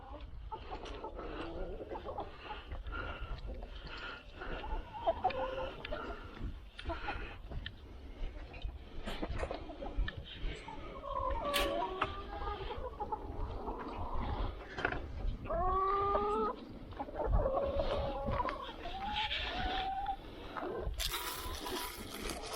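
Chickens cluck and call while pecking at feed scraps in a farmyard, with steady clucking throughout, several short rising calls and some mechanical rattling mixed in.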